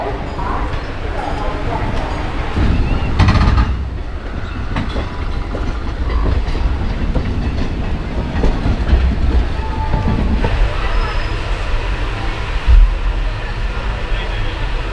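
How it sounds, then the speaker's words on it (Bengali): Teesta Torsa Express running on the rails out of Sealdah toward New Jalpaiguri, a loud steady rumble of wheels and carriage rattle with clickety-clack beats, heard from inside the train. "আর আমাদের ট্রেন আজকে শিয়ালদা স্টেশন থেকে ছেড়েছে কিন্তু একদম অন টাইমে।"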